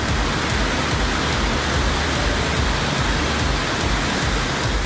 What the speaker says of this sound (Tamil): இதனால் தர்காலி, சக்டு ஆறுகளில் அபாய அளவை தாண்டி வெள்ளம் ஆர்ப்பரித்து ஓடுகிறது.